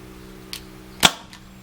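A single sharp crack of an Umarex TDP 45 CO2 pistol firing a 4.5 mm steel BB, fairly quiet and brief, with a faint click before and a soft tick after.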